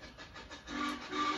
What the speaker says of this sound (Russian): Паровозики. Слышите? Какой милый